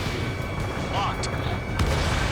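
A missile strike explosion in the Ace Combat 7 flight game, heard as a dense, continuous roar of low rumbling blasts and booms over steady engine noise, with a faint voice briefly underneath.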